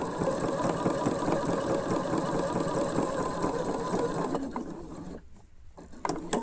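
A sewing machine stitching a ruffle on a child's dress sleeve, running in a steady rapid mechanical whir for several seconds before slowing and stopping, with a brief restart near the end.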